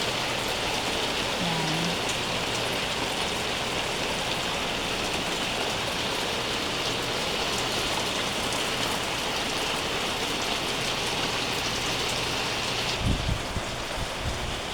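Heavy rain pours down in a dense, constant hiss of drops hitting surfaces, unbroken throughout, with a brief thud near the end.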